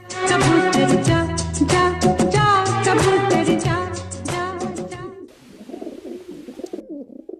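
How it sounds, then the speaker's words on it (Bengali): Melodic music plays for several seconds, then stops, and a soft, low cooing of pigeons kept on a rooftop follows in gentle repeated phrases. "বক বক বক বক পায়রা"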